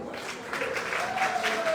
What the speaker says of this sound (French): ses applaudissements ne sont pas nourris